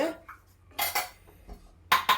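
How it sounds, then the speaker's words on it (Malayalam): A spoon stirs payasam made with cornflour mixed in milk, making a few sharp metallic clinks and scrapes against the pot in quick irregular bursts. "കോൺഫ്ലോർ കലക്കിയത് ഇടീന്ന് ഇളക്കി യോജിപ്പിച്ച്"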